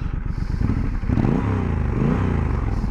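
A 2023 Triumph Scrambler 1200XE Chrome motorcycle runs close by. Its engine chugs in a low, uneven rumble that pulses and then swells into a steady throaty revving drone with faint mechanical clatter.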